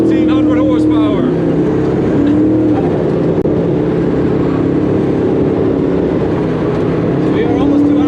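A 1500-horsepower Koenigsegg Regera accelerating at high speed near 200 km/h, a loud steady engine drone with rising and falling tones heard from inside the car, with people talking over it throughout.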